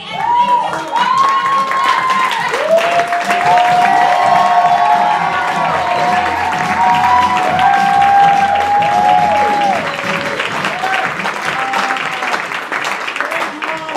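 A theatre audience applauds the cast with loud, sustained clapping, whoops and cheers, and shouted calls ring out over the crowd noise throughout.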